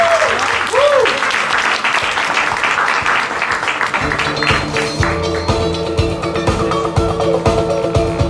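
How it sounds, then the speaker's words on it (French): Audience clapping to welcome a 15-year-old singer from Montreal before her song, a loud dense burst of applause with voices over it that thins out midway as a sustained musical tone and a speaking voice take over. "Est-ce qu'on l'applaudit?"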